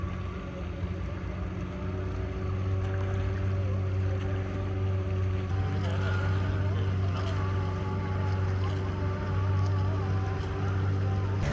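A boat ride out at sea off Lovina Beach on Bali's north coast: a steady, continuous engine drone and hull rumble, loud and even throughout with no clear talk.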